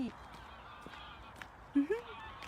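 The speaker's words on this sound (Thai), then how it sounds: "เสียงนก เหมือนนกเป็ดเลยค่ะ" A bird gives two short, nasal honking calls close together near the end, duck-like in tone, over quiet outdoor background in Laos.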